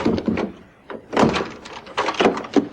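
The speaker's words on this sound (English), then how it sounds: "Steve, open the door." A door thuds and rattles open with a few knocking clunks, followed by a couple of firmer bangs close by.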